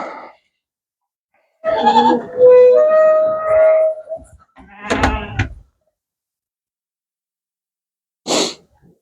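Purebred goats, including a full-blooded buck, bleat on a breeding farm: two close, wavering bleats in the first half, then a short sharp snort-like burst near the end, with silence between.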